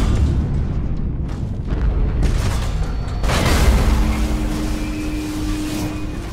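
A starship explodes in a Warhammer 40,000 space battle as an Imperial ship is destroyed, a loud deep boom rolling out into a sustained rumble with a second blast-like surge midway and a lingering tonal hum.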